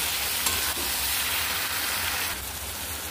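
Spice paste with a little salt sautéing in a pan, a steady dense sizzle throughout with faint scraping of stirring, close and fairly loud.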